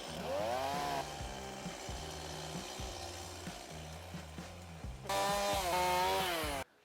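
A power drill whines and revs in repeated surges, its motor pitch climbing and dropping up close, with a louder high burst near the end.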